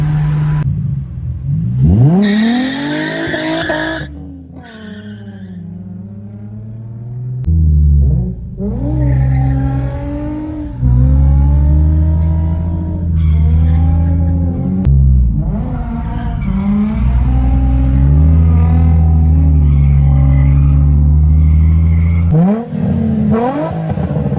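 A close, loud aftermarket single-exit exhaust on a Nissan 350Z revs up and down repeatedly, with deep throaty swells and rising pitch sweeps between quieter dips.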